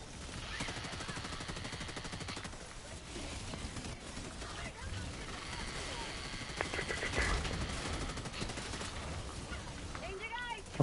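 Gunfire in Helldivers 2 during a fight with robots, a long stretch of dense, continuous automatic fire from several guns at mid distance, with players talking over it throughout.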